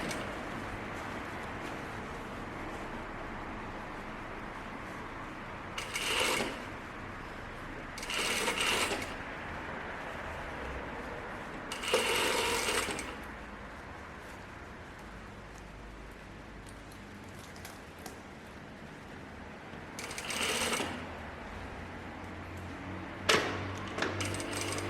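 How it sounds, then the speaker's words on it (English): Sewing machine stitching along the center front of a button-up shirt, a faint continuous hum and patter under room noise, punctuated by several brief louder rattling bursts of stitching. "we will continue the stitch all the way to the other side of the center front"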